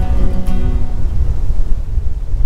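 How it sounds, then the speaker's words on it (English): Strong wind buffets an open field, a steady rough rumble and gusting roar battering the microphone, with no voices. "wind's too strong"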